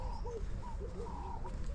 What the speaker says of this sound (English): Yeah, listen to the birds.